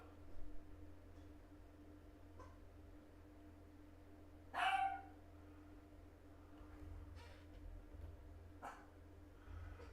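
A dog gives a single short bark at a distance, faint against a steady low outdoor hum, with the rest of the stretch quiet.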